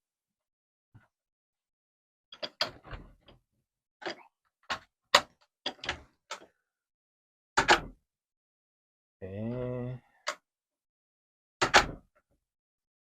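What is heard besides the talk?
garage door being closed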